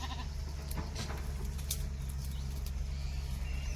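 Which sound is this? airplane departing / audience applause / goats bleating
goats bleating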